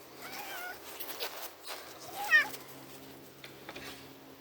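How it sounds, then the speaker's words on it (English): A cat meows a few times, a short wavering call near the start and a sharper, louder one midway, against a low steady hum with a few faint clicks in the background. "I have to have Big O the video cat here"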